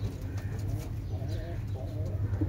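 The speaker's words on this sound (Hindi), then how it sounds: "ये हमारे पास इंडियन बाजरा कबूतरी है" Soft, low cooing of an Indian bajri pigeon murmurs steadily close by, a quiet throaty rumble repeating under faint background noise.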